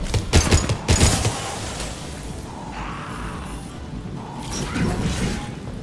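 Gunfire from an impact shot in Mass Effect 2, a loud burst of rapid sharp blasts in the first second followed by a quieter mechanical hum and a faint second swell near the end, with no talk over it.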